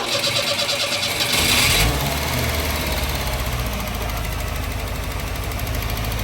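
A 1989 Chevrolet S10 engine cranks briefly with a rapid starter whir, catches, and settles into a steady, fairly loud running idle with a dense rhythmic mechanical chatter, heard alone with no talking.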